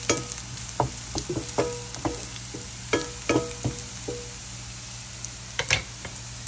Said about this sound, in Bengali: শুকনো মরিচ দিয়ে দিলাম